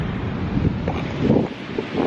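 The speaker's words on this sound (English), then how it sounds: "Pretty windy, but not too bad." Steady wind at a beach buffets the microphone with a low, rumbling roar that swells and eases, with no other clear sounds.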